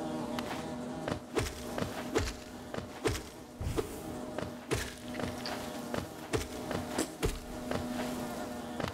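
Insect-like bee enemies in the Hollow Knight hive area buzz with a steady drone, broken by repeated soft thumps and footstep-like impacts throughout, with no talking.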